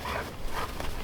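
Bubba, a homestead dog recovering from serious illness, gives a soft whimpering vocal sound up close, brief and low in level with no talk over it.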